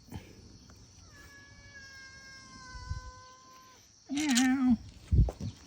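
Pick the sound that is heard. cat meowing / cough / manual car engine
cat meowing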